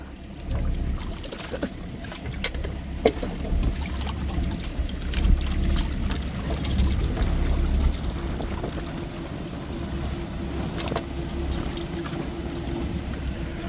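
Catfish being rinsed by hand in water, with repeated sloshing and splashing over a steady low rumble, irregular and close, with no talk.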